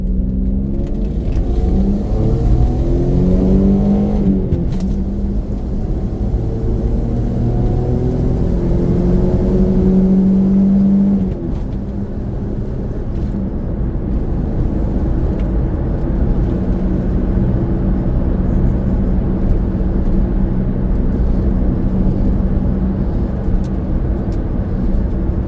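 A black V6 Toyota Camry with a 5-speed manual and a quiet new exhaust pulls away and accelerates, its engine note climbing through a gear, dropping briefly at a shift, then settling into a steady low cruising hum.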